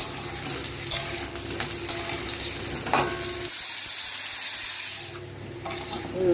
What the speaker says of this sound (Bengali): তেল গরম হয়ে গেছে, এবার এই ডুমো ডুমো করে আলু কেটে নিয়েছি, আলুটা প্রথমে ভেজে নেব।